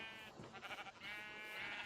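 Sheep bleating in the Minecraft video game, a short wavering bleat heard once, somewhat quiet and alone.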